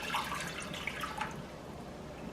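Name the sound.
pouring water into a cooking pan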